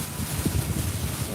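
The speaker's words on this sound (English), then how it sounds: "very windy." Gusty wind buffets a phone microphone outdoors, a steady low roar with rumbling bursts and no voices.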